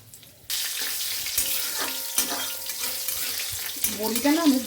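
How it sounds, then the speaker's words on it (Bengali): Dried lentil dumplings (bori) dropped into hot oil already seasoned with bay leaf and dried and green chillies, setting off a sudden loud sizzle that keeps crackling steadily close by, with no speech. "বড়িটা ভেজে তুলে রাখতে মনে ছিল না, এখন এই তেলেই দিয়ে দিলাম"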